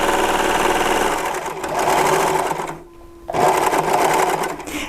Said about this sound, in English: I'm going to serge along the edge, making sure my fabric's right along that fold